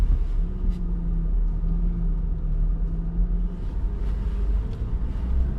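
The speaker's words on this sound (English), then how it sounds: "Driving this F250 Lariat." Black 2020 Ford F250 Lariat 4x4 diesel truck pulling out, a low steady engine rumble with a faint humming tone, close and continuous, with some wind buffeting.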